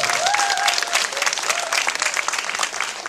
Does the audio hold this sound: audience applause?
yes